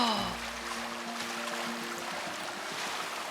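A waterfall in the video game Lost Ember gives a continuous, even rush of falling water, softly filling the short stretch with a steady hiss under faint game music.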